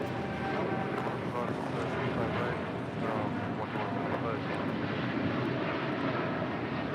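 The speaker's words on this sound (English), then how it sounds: "This is American 1959 departing to Miami on a 787-8 Dreamliner" An American Airlines Boeing 787-8 Dreamliner departs LAX for Miami, its jet engines a dense, steady rumbling roar at close range, with a voice talking over it.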